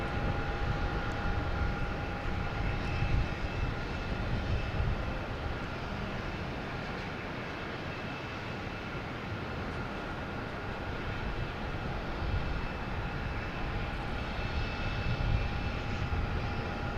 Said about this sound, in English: we have JetBlue coming in from Savannah